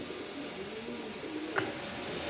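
A pair of black racer pigeons cooing softly at close range, low, drawn-out calls over a steady background hiss.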